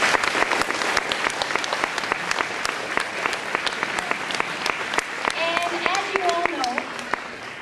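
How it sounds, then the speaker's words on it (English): A theatre audience claps steadily for actors and a choir in sustained applause, with a few cheers and whistles rising near the end. "for our actors and our choir, another round of applause."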